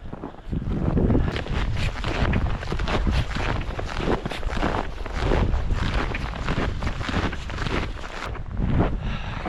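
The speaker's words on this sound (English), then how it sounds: "that wind is blowing." Strong, steady wind gusting outdoors in deep snow after a blizzard at an off-grid bush camp, roaring close into the microphone without pause and with no talking.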